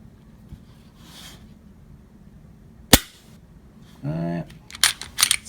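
A Glock pistol's trigger is dry-fired, giving one sharp loud click near the middle, followed by someone talking and a few more handling clicks and snaps at the end.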